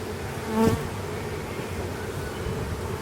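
Honeybees buzz steadily around an open hive box with a honey super during a mite treatment with powdered sugar, one bee swelling briefly louder as it passes close, then a soft continuous hum.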